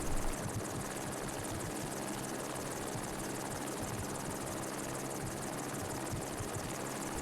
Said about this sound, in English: The helicopter has now arrived over the Grouse Grind trail and is getting into position to lower the load.